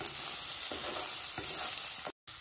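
Mushrooms being stirred with salt and pepper in a pan for a paneer mushroom salad, a bright continuous sizzle with a few scraping strokes, near and unbroken by speech, cutting out briefly at the end.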